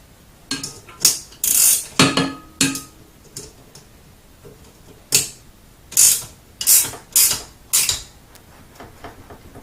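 Bursts of a ratchet wrench tightening a nut during a GE top-load washer shaking and vibration repair, several quick clicking runs close up with short pauses between, no talking.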